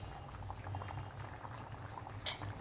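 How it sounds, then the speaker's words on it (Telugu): Fish curry with raw banana bubbling steadily in a pot, a soft continuous simmer heard close with one brief louder bubble burst near the end. "ఇదిగో కర్రీ చక్కగా ఇలాగా కొత్త కొత్త ఉడుకుతుంది కదా"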